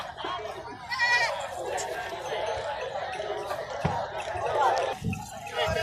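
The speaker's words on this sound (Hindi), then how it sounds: "एक दोस्त आए ने बकरी लेके सुई हुई ताज़ा, ते पीछे दो बच्चे ने जी" Goats bleat amid the busy chatter of a goat market, with a couple of short bleats rising over steady crowd noise and nearby voices.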